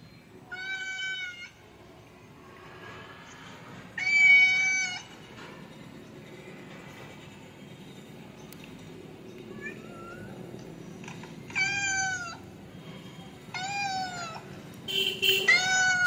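Recorded cat meows play from a mobile phone in several separate bursts of one or two drawn-out calls, fairly close and clear over a quiet room hum, with a shorter, softer mew in the middle.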